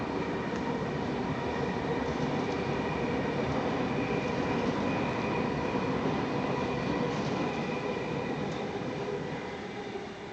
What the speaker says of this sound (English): we managed to get 2 trains